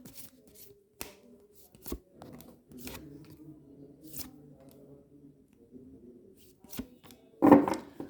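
Tarot cards are shuffled and tapped by hand in a quiet room, producing scattered crisp flicks and soft riffling bursts with pauses between, fairly faint and close, ending in a brief louder rustle.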